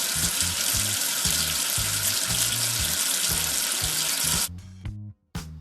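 Cartoonish running water in a preschool number-washing game rinses soap off a figure of the number 8, a steady broadband rush over bouncy background music, stopping abruptly near the end with a few short splashes after.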